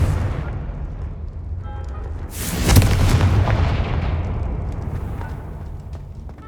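A magical fire-blast spell in Hogwarts Legacy goes off as one deep booming explosion that swells abruptly and then rolls away into a long rumbling tail, loud and alone without speech.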